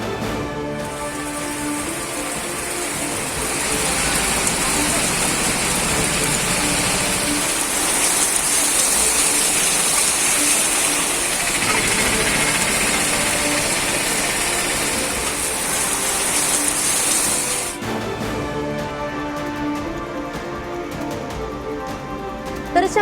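Rainwater pours down from a hilltop in sudden waterfalls after heavy rain, a loud continuous roaring rush that holds steady for most of the stretch before easing.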